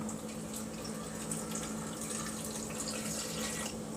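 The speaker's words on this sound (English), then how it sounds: "I'm going to add about 1 cup of water" Water streams steadily into a cooking pot for Mexican rice with tomato paste, a soft continuous pouring rush at moderate distance with no voices.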